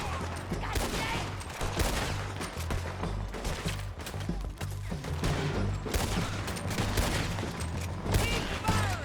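Gunfire from the video game Red Dead Redemption 2: a dense, loud fusillade of rapid overlapping shots that runs without a break from start to finish.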